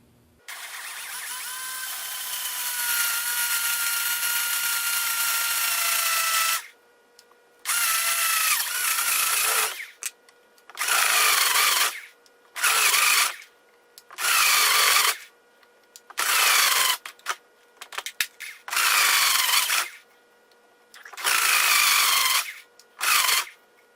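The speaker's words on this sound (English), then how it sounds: "so we drilled out the holes on both sides and we tapped it" Whining power drill boring holes into a DIY catch can oil separator, first a long continuous run, then a series of short, loud bursts with brief pauses between them, up close.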